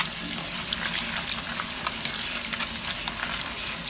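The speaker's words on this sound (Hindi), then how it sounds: "तो फटाफट से इसके ऊपर ठंडा पानी डाल देते हैं" Cold water poured quickly over hot boiled macaroni in a kitchen, making a continuous hissing, splashing rush that stays steady and moderately loud for a few seconds with no talking.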